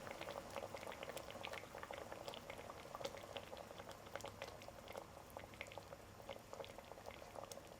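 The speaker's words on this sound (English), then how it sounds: "Let it boil and simmer on low heat." Mackerel miso stew bubbles in a pot over low heat, a close, quiet stream of small popping bursts and gentle simmering gurgles that continues without pause and without talk.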